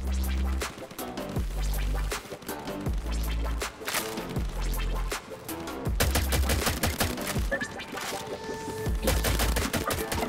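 Shotgun fire in the video game Crab Champions: loud, booming blasts repeat every second or so over continuous game music and effects, with no talking.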